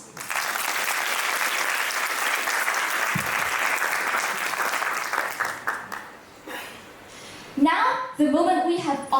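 Audience applause for the juries at a business case finals event, a full steady clapping crowd for about six seconds that tapers into scattered claps before a voice speaks over the hall.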